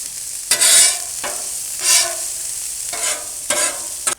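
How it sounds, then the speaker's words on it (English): Diced onion sizzling in butter on a flat griddle, with bursts of frying crackle and spatula scrapes recurring in short uneven strokes, close and fairly loud. "Now we're going to put the diced onion right onto the griddle surface."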